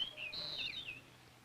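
Cartoon bird call, a faint, thin high chirping warble that rises and dips over about a second and then fades to quiet.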